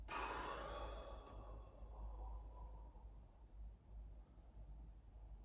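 A slow exhale during a qi gong exercise, close and breathy at first, then gradually trailing off into soft background hiss over several seconds.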